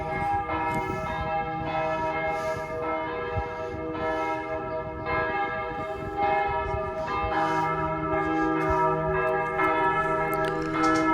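Church bells ring continuously in a French town, overlapping peals sustaining loud and resonant across the whole stretch with no speech over them.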